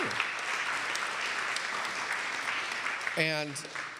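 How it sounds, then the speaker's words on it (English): A congregation at a Sunday church service applauds for a few seconds, steady dense clapping that tapers, with a voice briefly speaking near the end. "we can give a round of applause for that, sure"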